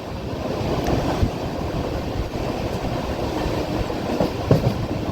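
The Nagawali Super Fast Express runs through forested country near Dichpalli, a steady rumble and clatter of the carriages with faint rhythmic clicks, heard from inside the train.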